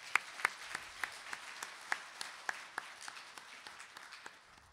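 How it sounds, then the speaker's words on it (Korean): Audience applauding a speaker at the close of a one-hour energy forum lecture: sparse, distinct claps from a small hall crowd, fairly distant and modest in volume, tapering toward the end. "여러분 박수 좀 부탁드리겠습니다"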